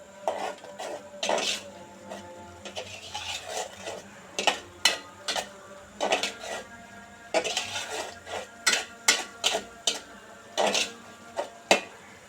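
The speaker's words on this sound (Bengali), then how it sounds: "আমি নেড়ে নেড়ে তরকারিটা কষিয়ে নেব, নেড়ে চেড়ে কষিয়ে নিচ্ছি।" Taro roots and prawn curry stirred in a pan, with repeated clinks and scrapes of a utensil against the metal, close and fairly loud, in an irregular rhythm that grows busier toward the end.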